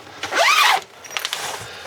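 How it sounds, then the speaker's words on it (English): A zipper is drawn quickly along the privacy screen of a 2025 Airstream Basecamp trailer, a close, bright rasping zip followed by quieter fabric rustles and small clicks. "Velcro it up, and you just zip"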